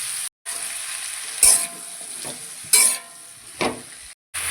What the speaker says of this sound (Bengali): এবার একটু ভালোভাবে ভেজে নেব।